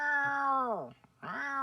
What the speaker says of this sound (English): Let's see that kitty.